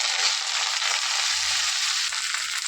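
Jute leaf greens hitting hot oil in a pan already seasoned with dried red chilli, bay leaf and five-spice, giving a steady, close, bright sizzle with no talk.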